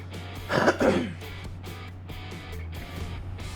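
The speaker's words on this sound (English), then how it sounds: "I can't get rid of this frickin' cough and this frickin' phlegmy crap in the throat" A man coughs and clears his phlegmy throat twice in quick succession, close and fairly loud, over a steady low hum, then a quieter stretch follows.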